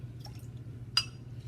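Precipitate liquid poured into a glass waste beaker during a lab cleanup, a brief splash and clink standing out over a quiet low hum, faint and close.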